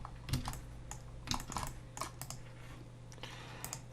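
Keyboard shortcuts tapped out on a computer keyboard during 3D modeling in Blender, a close, steady run of quick clicky keystrokes with no talk.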